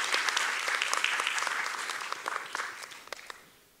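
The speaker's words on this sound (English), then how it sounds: "Will you please join me in giving a warm round of applause to Vanessa this morning?" An audience applauds after a keynote talk at an eLearning conference, a full round of clapping that thins into scattered claps and fades out near the end.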